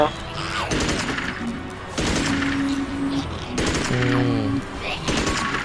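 Rapid bursts of gunfire from the video game Magicka rattle out in several loud volleys, mixed with short electronic game tones.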